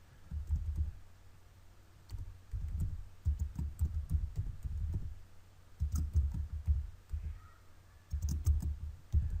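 Typing on a computer keyboard: clustered bursts of muffled, thumpy keystrokes with short pauses between runs, fairly close and moderately quiet, with no talking.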